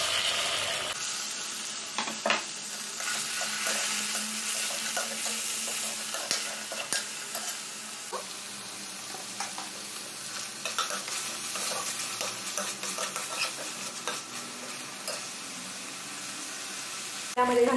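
Tomato frying with browned onion in a pan for a quick eggplant bharit, a steady bright sizzle with occasional stirring scrapes, close and continuous, with faint speech in places.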